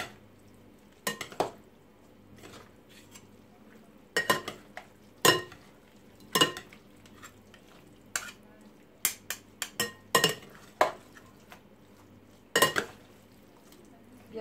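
Shrimp pearl salad with avocado and pomelo being stirred in a bowl, a series of sharp utensil clinks and scrapes against the dish spaced irregularly over a quiet background.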